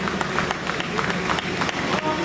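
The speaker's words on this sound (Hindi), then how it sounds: "मैं तमाम ऑडियंस से रिक्वेस्ट करूंगी जोरदार तालियां क्षितिज के लिए हो जाए आप सभी की तरफ से।" Dense applause from a stage-show audience cheering a 17-year-old app developer, a continuous clatter of many hands with some voices mixed in.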